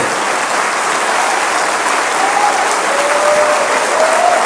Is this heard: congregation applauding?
yes